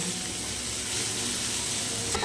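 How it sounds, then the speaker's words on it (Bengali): Onion, garlic and green chilli frying in hot oil over a low-to-medium gas flame for Bengali-style egg momo: a steady, close hiss and sizzle that holds evenly throughout, with no talking. "গ্যাসের ফ্লেমটা লো টু মিডিয়ামে রেখে এই পেঁয়াজ রসুন আর কাঁচা লঙ্কা খুব ভালো করে ভেজে নিতে হবে"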